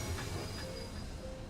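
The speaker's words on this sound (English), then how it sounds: "Train." A train in the Genshin Impact video game rolls along its rails with a steady rumble and faint squeals from the wheels. The sound is continuous and moderately quiet, with no talking over it.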